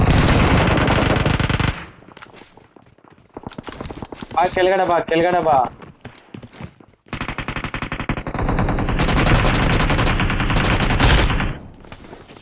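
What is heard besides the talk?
gunfire in the video game BGMI (PUBG Mobile)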